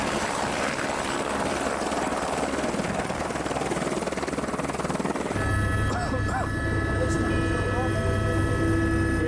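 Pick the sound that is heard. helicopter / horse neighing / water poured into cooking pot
helicopter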